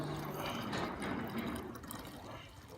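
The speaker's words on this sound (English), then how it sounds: "let me pour some water into this To the tank." Water pours steadily into the tank of a seed-planting and watering robot, a continuous close splashing and gurgling fill that eases off slightly toward the end, with no talking.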